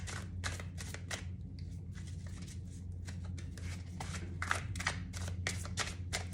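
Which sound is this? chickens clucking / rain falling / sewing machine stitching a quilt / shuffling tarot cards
shuffling tarot cards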